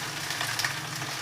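Vegetables fry in a pan for a breakfast dish, a steady, even sizzle with faint crackles, close and continuous, no voices.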